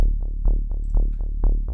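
Sub bass line with side-chain compression, its low sustained tone ducking and swelling back in a steady pumping rhythm of about seven pulses, loud and alone with no voices.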